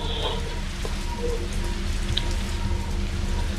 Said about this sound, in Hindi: बाहर बारिश हो रहा है